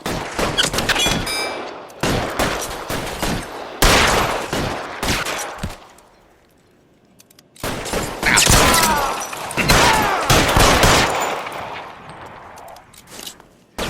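Gunfire in L.A. Noire, a 1940s Los Angeles crime game shootout: loud, close volleys of rapid shots in several bursts, with metallic clangs and pings between them and a brief quiet lull midway.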